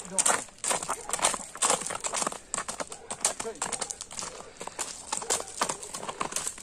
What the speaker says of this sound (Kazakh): Нурбек Таксыр, мен бул атты байкап турам, бул ат өтө күчтүү ат